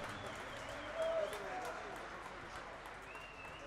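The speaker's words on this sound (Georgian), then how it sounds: "ოვაციები გესმით ალბათ თამამად" Crowd applause and ovation at a race finish, a steady broad roar of clapping and cheering that swells briefly before settling into a continuous wash.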